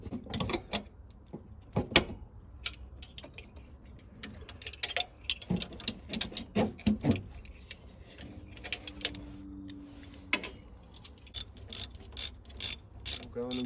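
A wrench works a nut on a VW distributor with a Magnaspark II electronic ignition kit, making sparse, sharp metallic clicks and ratcheting ticks at irregular intervals, close and fairly quiet against a hushed background.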